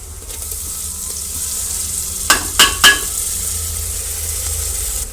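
Steady sizzling of spices and turmeric frying in hot tempering oil for masala khichdi, close and continuous, with a few sharp clinks of a spoon stirring against the pan midway.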